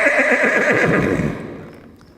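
A horse whinnies loudly and close, a long quavering neigh calling out for a herd companion it was separated from, fading away over about two seconds with no talk.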